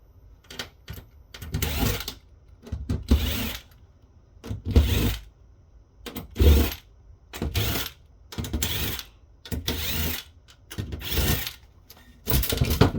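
Screws being loosened around the display shield of an HP Pavilion 23-p114 all-in-one PC, repeated bursts of whirring and clicking from a screwdriver, each lasting about a second with short pauses between, close and fairly loud.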